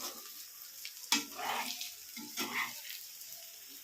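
Stuffed eggplant (gutti vankaya) frying with chili powder in a pan, a steady sizzle with a sharp burst of stirring or clatter partway through and softer stirring swells after, close and alone.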